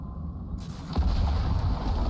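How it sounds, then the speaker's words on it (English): A close lightning strike in the Icarus video game sets off a deep rumbling thunderclap that starts abruptly and rolls on heavily, with no talking over it. "That lightning strike was close, wasn't it?"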